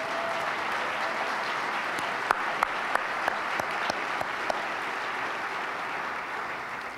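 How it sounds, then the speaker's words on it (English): Audience applause at a university event, a steady, moderately distant wash of clapping lasting several seconds, with a few sharper individual claps standing out near the middle. "how about a round of applause for our fantastic students?"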